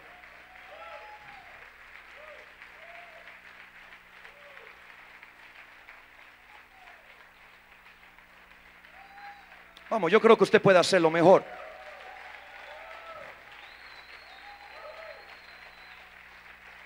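A congregation at an apostolic church gathering keeps up steady, sustained applause the whole time, with a preacher's amplified voice briefly booming over the clapping midway.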